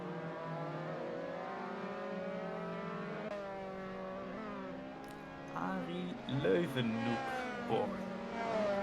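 Formula 3 race car in sim racing at Zandvoort, the engine whining and climbing in pitch through rising gears, with rougher revving and tyre noise near the end while a commentator talks over it.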